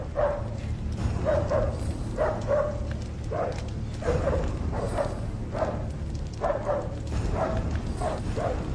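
Dogs barking in a dramatic historical film scene, a series of loud, repeated barks in rhythmic bursts about once a second, close and continuous over a low background rumble.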